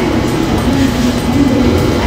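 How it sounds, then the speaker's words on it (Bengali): A Riyadh Metro train runs underground with a loud, steady rumble and roar heard from inside the carriage, a continuous dense noise with a faint hum running through it. "দেখুন মাটির নিচ দিয়ে এখন ট্রেন যাচ্ছে"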